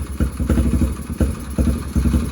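A Yamaha Raptor ATV engine idles close by with a loud, lumpy, uneven rhythm of low thumps and irregular pulses, suggesting a rough, unsteady idle.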